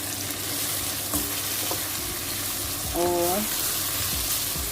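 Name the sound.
keema masala being stirred and frying in pan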